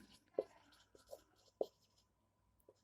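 Chalk or marker tapping and scratching on a classroom board, a handful of faint, sparse taps and strokes in a quiet room.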